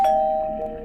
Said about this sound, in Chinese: 一阵门铃声响起